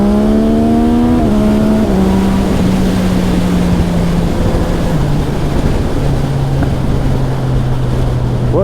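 A Yamaha MT-09 motorcycle pulls away and accelerates hard, its engine note climbing through several gears in quick upshifts, loud and close and steady throughout with no talk.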